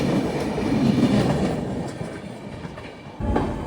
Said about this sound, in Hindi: यहाँ पे गाजियाबाद जंक्शन पर अपनी अमृत भारत एक्सप्रेस का आगमन हो रहा है